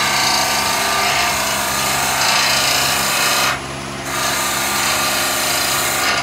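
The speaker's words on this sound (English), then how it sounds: "Now I'm going to raise the tool rest and just skew chisel" A wood lathe turns a raised bowl while a skew chisel cuts it, giving a loud steady scraping and rasping hum that drops away briefly near the end and then resumes, with no talk.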